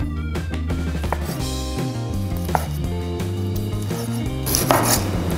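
Knife chopping pork belly into small pieces on a board for braised pork rice, a steady run of close, sharp knife taps with faint dish clatter in the background.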